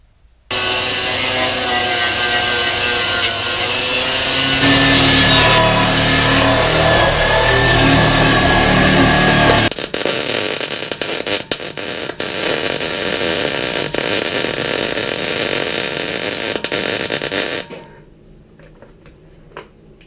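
Angle grinding on lap-weld repairs at the rear of a 1967 VW Beetle body, a loud whining, harsh grind that shifts tone midway and continues steadily before cutting off near the end.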